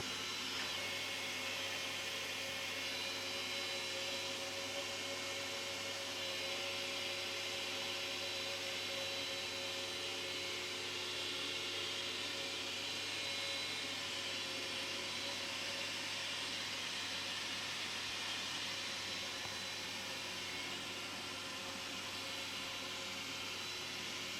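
A Dreame X50 Ultra Complete robot vacuum hums steadily with a whirring motor and broadband air noise, continuous and close, without any talking.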